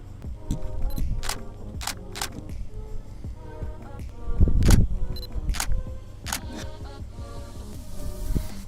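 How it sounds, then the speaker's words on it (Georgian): Camera shutter firing while photographing a car with its headlights switched on; several crisp, close clicks come at irregular intervals, some in quick pairs, with no talk over them. "მოკლედ გადავიღეთ რამდენიმე ფოტო უკვე."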